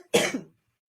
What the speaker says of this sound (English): And I still have this cough.